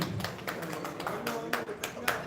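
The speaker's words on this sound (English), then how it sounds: "let's do a round of applause" An audience applauds at a pre-launch ceremony in a hotel ballroom, producing a fairly soft, steady patter of clapping that runs under a voice talking through it.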